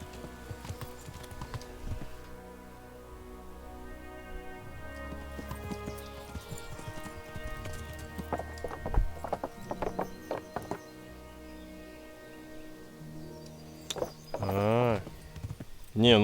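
Horse hooves clip-clop intermittently in the medieval game Kingdom Come: Deliverance, with someone talking over them and a louder harness or mechanical rattle near the end.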